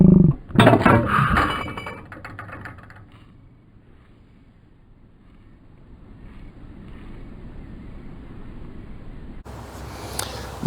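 A Lincoln SC-90E manual trap machine fires, giving a loud sharp mechanical clack and rattle as it releases a pair of clay targets, then goes quiet under light wind noise before another clunk near the end.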